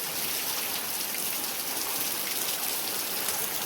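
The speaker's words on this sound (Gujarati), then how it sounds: "મસ્ત વરસાદ પડે મિત્રો હાલ એકદમ ફૂલ વરસાદ ચાલુ થઈ ગયો" Steady heavy rain falls on a farm field, a thick, unbroken wash of drops heard close and alone for the whole stretch.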